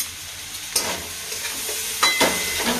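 Spice mixture with a little sugar for a cauliflower ghonto fries in a pan, a steady sizzle under a few sharp spoon scrapes and clatters, close by with no talking.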